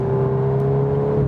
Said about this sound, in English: Just what you hear is all with this engine sound